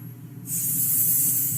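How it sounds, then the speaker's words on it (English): One quick airbrush mist sprayed onto a face, a sudden steady hiss starting partway in and holding evenly for about a second over a low background hum. "this is how I spray my face. One quick mist."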